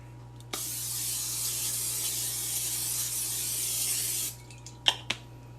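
An aerosol cooking spray hisses steadily onto a pan being prepared for chocolate fudge brownies, one loud continuous burst lasting several seconds, followed by a few short clicks and taps.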